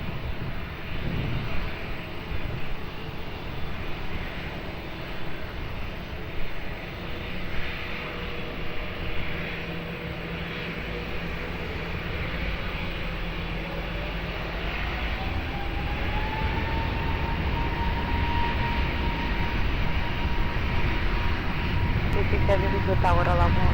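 Airliner taking off from runway 20 at Lisbon Airport, a steady broad engine roar building gradually with a rising whine, heard at a distance under continuous radio chatter from air traffic control.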